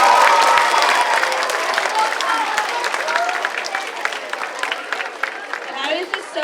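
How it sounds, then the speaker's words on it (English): Audience at an elementary school showcase applauding after a performance, dense clapping with some cheering that starts strong and slowly thins out over several seconds, a voice briefly audible near the end. "Can we give them another round of applause?"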